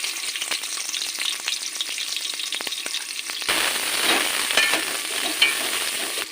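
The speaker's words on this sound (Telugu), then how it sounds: "ఇగో నూనె పోసిన ఉల్లిగడ్డలు వేస్తున్నాం" Onions dropped into hot oil for chicken curry, a loud close sizzle that swells suddenly partway through and keeps crackling, with light stirring clatter before it and no speech.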